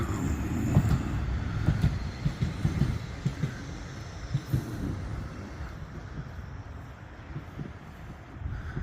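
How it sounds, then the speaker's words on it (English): Tram running along Blackpool's North Promenade on a sunny morning, a steady low rumble with rhythmic wheel clatter over rail joints, fairly near and continuous throughout. "Trams are running."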